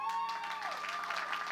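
Audience at a Queens College commencement ceremony applauds the student leadership, with sustained dense clapping throughout, steady and moderately loud across the hall.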